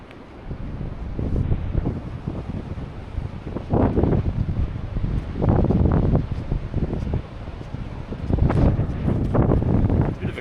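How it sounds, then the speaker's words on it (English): Cold wind buffets the microphone on a rugged Tasmanian coast, a loud rushing roar that swells in repeated gusts over a constant background. "Bit of a cold, windy day."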